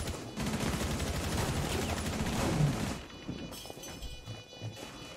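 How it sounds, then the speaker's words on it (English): Gunfire in a tactical shooter video game rattles in a dense, steady stream for about three seconds, then drops to a quieter stretch with a few scattered, fainter shots. "I just got shot through the smoke"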